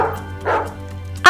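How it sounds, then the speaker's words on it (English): A white dog in an animated children's picture-book read-aloud gives two short barks, one midway and one at the end, over a steady background hum. "White dog, what do you see?"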